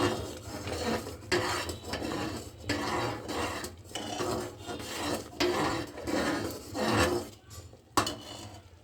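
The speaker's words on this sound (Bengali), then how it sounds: "অনবরত আপনারা এভাবে নাড়তে থাকবেন।" Payesh rice pudding with hot milk stirred in a pressure cooker, a spoon scraping and rasping against the metal pot in steady repeated strokes, close and alone.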